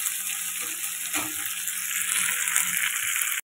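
Garlic fries in oil in a pan with a constant soft sizzle, close by and fairly loud, with faint stirring taps and a high steady tone, cutting off abruptly at the end.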